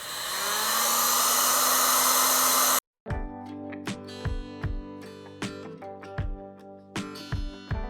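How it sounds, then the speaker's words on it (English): A heat gun blows on a broken plastic part from a Polaris Wave Raider jet ski, making a loud, steady, close rushing roar for about three seconds before cutting off abruptly. Ringing tonal clanks and knocks follow in its place. "we're going to put the heat gun on it and see if I can't peel some of this stuff away"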